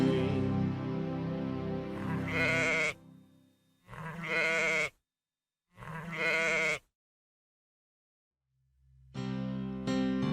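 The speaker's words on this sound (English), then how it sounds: "He had 3 sheep, 1, 2, 3." Three separate sheep bleats, each about a second long with silence between them, in a children's song episode, with music playing before and after.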